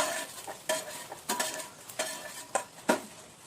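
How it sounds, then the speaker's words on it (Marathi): Peanuts being fried until reddish in a kadhai for spicy bhadang, with repeated scraping stir strokes over a soft, steady sizzle, close and fairly loud with no voices. "आता शेंगदाणे छान लालसर तळून घ्यायचे"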